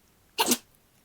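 One short sharp sneeze, close and fairly loud, bursting out alone against near silence.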